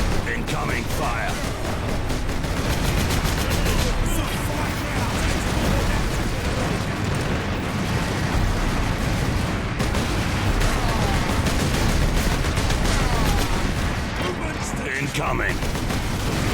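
Dense, continuous gunfire and booming explosions from the Space Marine video game, a loud unbroken barrage of bursts and blasts filling the whole stretch, with shouted voices mixed in.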